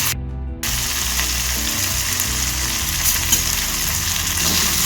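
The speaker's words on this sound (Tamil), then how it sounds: "இது அப்படியே வதங்கட்டுங்க." Ingredients for a spicy tomato chutney frying in a pan, a dense continuous sizzle close up with soft stirring scrapes underneath, and no one speaking.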